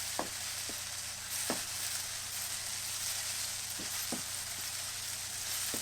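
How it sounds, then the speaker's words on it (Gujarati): Eggplant and green peas roasting in oil over a low flame for a Gujarati sabji, making a soft, steady sizzle with a few light spoon clicks, quiet and close. "અને 2 થી 3 મિનિટ સુધી આપણે એમાં તેલમાં શેકી લઈશું."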